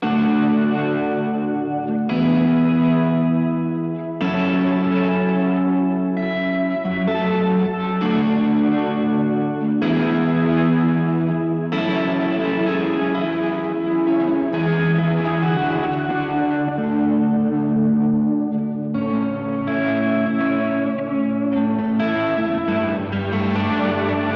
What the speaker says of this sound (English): I have an octave and a slow volume kind of working apart and then mixing together in the end